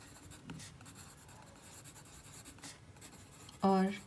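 Pen or marker writing on paper while a dental lesion diagram is drawn, a faint scratchy stroking through most of the stretch, ending in a brief louder tonal burst.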